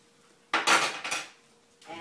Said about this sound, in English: For your utensils, you need 3 things: a big spoon, a little spoon, and a fork.